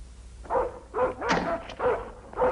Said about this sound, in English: Hagen, be quiet. Stop barking